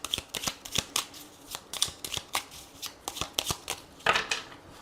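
Oracle cards shuffled by hand at close range, a rapid series of crisp riffling slaps and flicks in an uneven rhythm, loud and alone.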